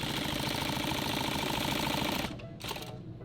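A sewing machine stitches a zipper onto a nylon clothes bag, giving a loud, continuous rapid whirring up close that cuts out near the end with a short restart.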